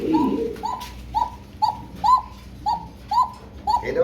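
A domestic fancy pigeon in a breeder's collection coos in a steady series of about eight short, close, even-spaced calls, with no talking heard.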